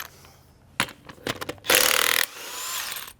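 Brake-job work on a 2010 Ford F-150 begins with pulling a wheel, heard as scattered metallic clanks and knocks from tools. These are followed by a loud, roughly half-second burst like an impact wrench and then a fainter, steadier whir.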